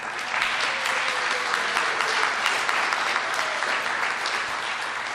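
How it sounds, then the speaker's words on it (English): An audience at a live radio play recreation of December Bride applauds steadily, a full, even wash of clapping without pause across the whole stretch. "we should give a large round of applause for Donna for filling in for our regular Foley man"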